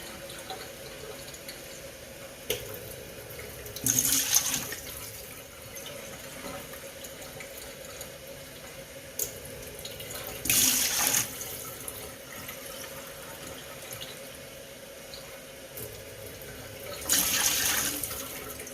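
Water pours into a pot of collard greens in three separate bursts a few seconds apart, each lasting about a second, over a faint background hum with no talking.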